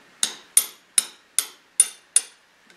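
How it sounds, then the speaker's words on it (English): Six sharp metallic hammer strikes on the spring of a Hubertus switchblade knife, evenly spaced about 0.4 seconds apart, each a close, bright clink with a short ringing decay, heard alone without talk. "I go now with this on the spring and hit with the hammer here."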